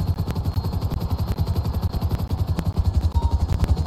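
Helicopter in a multiplayer online shooter game going down, a steady loud rotor chop and engine drone throughout with clattering bursts like gunfire over it.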